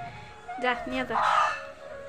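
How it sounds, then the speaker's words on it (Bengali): A white hen in a backyard flock clucks close by, giving a few short, bright calls in quick succession over faint background noise. "এই যে আমার সাদা মুরগিটা"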